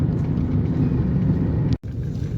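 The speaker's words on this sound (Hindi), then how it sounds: "ये सामने थ्रेशर लगी हुई है, वो देखें दाने निकाल रही है, ट्रैक्टर और थ्रेशर लगी हुई है।" A tractor-driven threshing machine separating wheat grain gives a steady, loud, low rumbling drone that runs throughout, with a brief dropout near the end.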